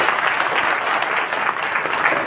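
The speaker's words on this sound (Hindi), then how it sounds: "उन सब के लिए आप लोग एक दूसरे के लिए ताली बजाइए।" A crowd at a Goswami community gathering claps together in a steady, dense wash of applause that holds evenly from start to finish, with no voices rising above it.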